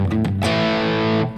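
Electric guitar on a heavier gain channel with distortion, a Klon-style overdrive and reverb in the effects loop, strumming a few clipped chords, then ringing out in one loud sustained saturated chord before cutting off, alone with no talk.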